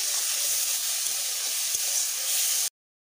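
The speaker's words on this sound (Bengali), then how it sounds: "3 মিনিটের মতো ভেজে নিতে হবে।" Taro stems with salt, turmeric and a splash of water fry in a pan, giving a steady, fairly loud hissing sizzle that holds even for under three seconds, then cuts off abruptly to silence; no voices.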